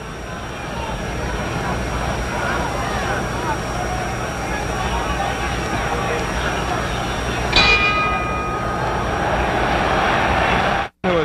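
A boxing ring bell at a 1963 heavyweight fight at Madison Square Garden rings out sharply near the end, above loud continuous crowd roar and an announcer's voice.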